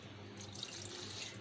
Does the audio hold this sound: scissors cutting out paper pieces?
no